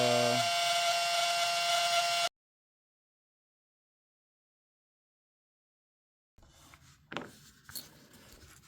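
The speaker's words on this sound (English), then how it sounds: "I'm going to chuck these up in my benchtop lathe" A benchtop lathe spins machined slider parts for polishing, its motor giving a steady, fairly loud whine for about two seconds before cutting to silence, then a few faint clicks and handling knocks follow.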